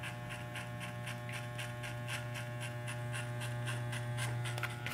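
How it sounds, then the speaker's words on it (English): Electric hair clippers hum steadily and close up through a fade haircut on long curly hair, a constant buzzing drone with no speech. "Clipper close and make my first guide here."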